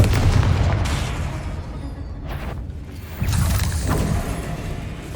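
Confringo and Bombarda spell explosions in Hogwarts Legacy bring heavy, continuous booming blasts that dip briefly mid-way and then surge again, loud and low-heavy throughout.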